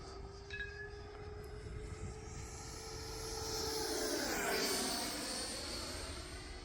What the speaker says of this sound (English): This airplane, it sounds so good.